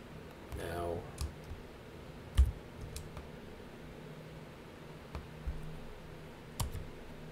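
Keys tapped on a computer keyboard to enter a spreadsheet sum formula, heard as sparse, scattered clicks with a few sharper taps under a faint steady room hum.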